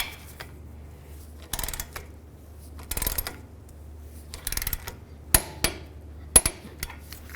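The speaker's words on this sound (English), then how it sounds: "now we'll torque this to 70 foot-pounds" A torque wrench tightens a ball joint nut to 70 foot-pounds on a 2009-2020 Dodge Journey lower control arm, giving several short bursts of close ratcheting clicks separated by quiet pauses, ending in a few sharp clicks.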